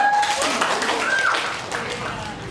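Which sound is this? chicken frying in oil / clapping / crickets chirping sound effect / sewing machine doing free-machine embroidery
clapping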